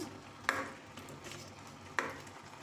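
Tomato egg curry with green chillies gets stirred in a pan, two sharp spoon scrapes about a second and a half apart over a low background simmer.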